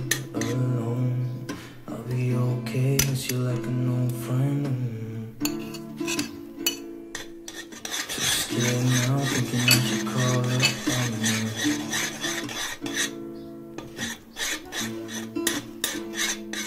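Metal spoon scraping and clinking around a pot of boiling homemade Nutella with butter in steady repeated stirs, with a music-like tonal background running underneath.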